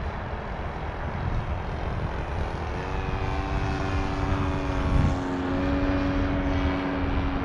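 An FMS F/A-18F Super Hornet RC jet taxis on a runway, its ducted-fan whine rising into a steady, close, tonal hum over outdoor background noise.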